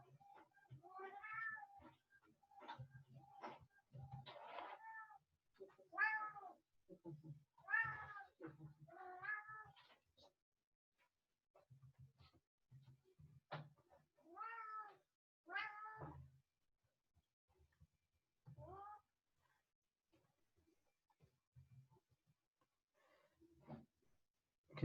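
A house cat meows repeatedly in a run of drawn-out, rising and falling calls, close and fairly loud, with short pauses between bursts and a quieter stretch near the end; no talking over it.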